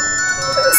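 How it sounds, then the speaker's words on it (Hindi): Mobile phone ringing from a distance up some stairs, a short bright electronic melodic ring tone heard clearly on its own. "फोन की आवाज आ रही है"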